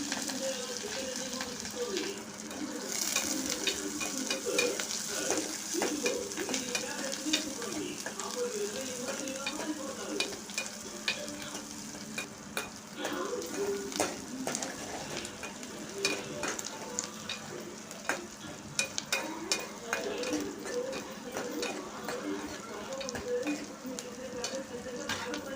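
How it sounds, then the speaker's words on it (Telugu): Finely chopped green chillies fry in hot oil with mustard seeds and cumin, giving a steady close sizzle with occasional stirring clicks and faint pops, while a voice speaks softly at times. "ఇప్పుడు సన్నగా తరిగిన పచ్చిమిరపకాయ ముక్కలు వేసుకొని వేయించాలి."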